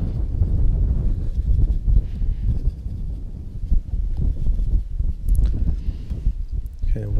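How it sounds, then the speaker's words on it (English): Wind buffets an outdoor microphone steadily throughout, a dense low rumble with gusty swells, broken near the end by a few brief knocks and rustles. "The wind's calming down now."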